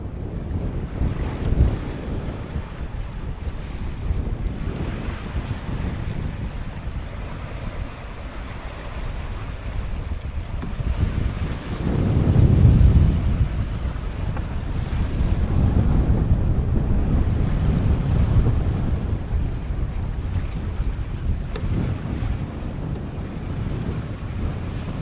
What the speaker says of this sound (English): the winds are just a little too strong. They came up pretty fast, and they're quite, well, they're in excess of 25 knots